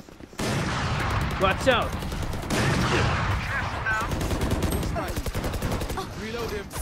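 Machine gun fire in the video game Valorant, sustained rapid bursts with brief pauses, loud and close, while a player shouts briefly over it.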